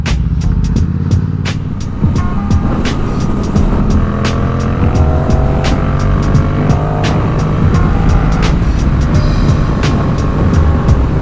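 Yamaha R7 sport motorcycle engine droning steadily while riding, with rising and falling whine as the rider shifts, wind rush constant and loud throughout, heard from under a closed helmet visor.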